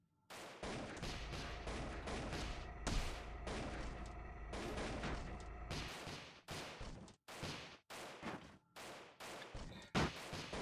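Rapid-fire airship guns in a flying-ship video game shoot in dense, sustained volleys, then break into short separate bursts with gaps between them, loud and close.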